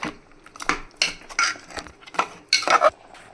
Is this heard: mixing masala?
yes